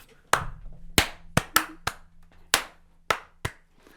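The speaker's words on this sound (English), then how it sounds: "Yeah. Slow clap." A lone slow clap, eight crisp separate hand claps spaced unevenly about half a second apart, close and dry against a quiet background.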